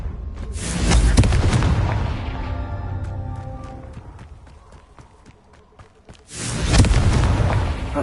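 Magical blasting-spell explosions in a Harry Potter video game, a loud booming burst near the start and another near the end with a quieter stretch of scattered pops and clicks between them.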